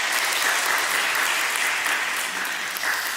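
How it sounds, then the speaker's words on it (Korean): Church congregation clapping together in a steady, dense wash of applause, close and full throughout, with no voices rising above it. "박수 한번 할까요? 서로 위해서."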